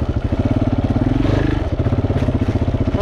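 A KTM motorcycle engine thrums steadily over a rutted dirt track between Mossendjo and Moanda on a solo ride from Congo to Gabon, close and loud, with a rhythmic pulsing throughout.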